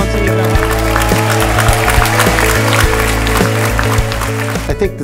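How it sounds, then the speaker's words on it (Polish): An audience at a Jack Canfield success-principles event in 2013 claps in welcome, the applause running under loud, rhythmic stage music with a thumping beat, fading toward the end. "Gorący brawa."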